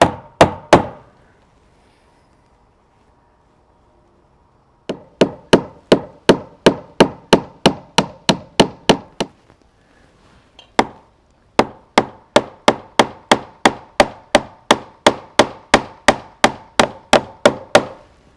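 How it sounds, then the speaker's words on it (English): A staple tool fixes a solar pendant light's cord in place with a long run of sharp, evenly spaced impacts, close and loud, broken by a few short pauses and heard alone with no talking. "time to add a couple of staples"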